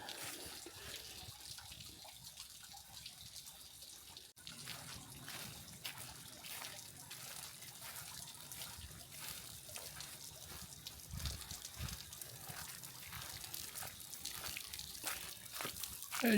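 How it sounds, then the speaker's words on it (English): A small waterfall with very little water flowing over it at Tomlinson Run State Park, West Virginia, gives a soft, steady trickle and splash, faint and continuous, with no talking. "There's the waterfall."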